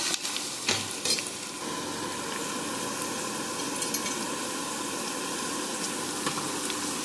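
Vegetables for an ivy gourd masala curry fry steadily in a pan, giving a continuous close sizzle with faint stirring clinks and no talk.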